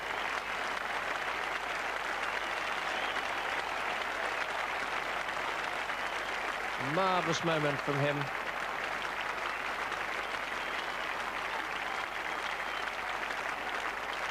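Steady, sustained applause from a distant crowd at a 1987 Pakistan v England Test cricket match at The Oval fills the whole stretch, with a voice briefly speaking over it.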